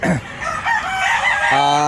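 A gamefowl brood bull stag crows loudly and close by, one drawn-out rising and falling crow with a short clucking start.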